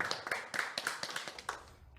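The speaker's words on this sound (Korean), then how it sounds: "큰 박수 부탁드리겠습니다" A small audience at a neighborhood residents' general meeting claps, faint and somewhat distant, a handful of distinct hand claps that thin out and fade within two seconds.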